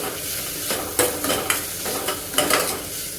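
Moong dal and onions fry in a pan over low flame, a continuous sizzle broken by several sharp scraping stirs of a spoon, close and clear with no talking.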